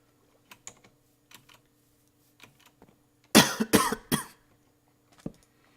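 A burst of several harsh coughs close to the microphone, with scattered faint keyboard clicks before and after, during a Minecraft session.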